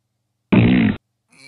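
A fart sound effect: one loud, fairly long, buzzing blast of about half a second, heard alone in silence, followed by a faint tonal tail near the end.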